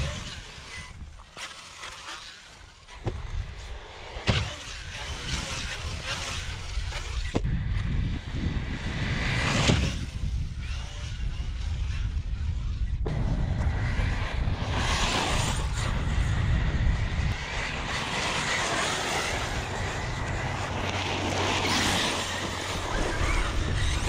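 An ARRMA Outcast 6s RC car motor revs and roars in repeated bursts and long runs, loud and near, with some talk mixed in.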